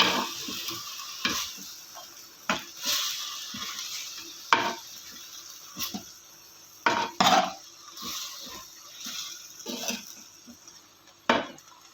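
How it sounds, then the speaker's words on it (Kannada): Ingredients for a potato and spinach dal are frying in a pan and being stirred, with soft sizzling broken by repeated scraping and clinking strokes of a utensil against the pan, close up and with no talking. "ಇದನ್ನು ನಿಧಾನಕ್ಕೆ ಫ್ರೈ ಮಾಡ್ಕೊಳ್ಬೇಕು"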